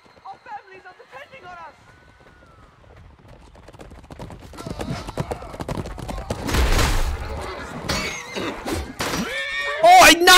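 Horse whinnying amid medieval battle clatter in the video game Chivalry 2, with clashing impacts and shouting building over the clip and a player talking throughout.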